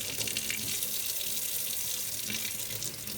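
Water running steadily from a tap while bike V-brake parts are rinsed under it, a constant close splashing hiss with no break.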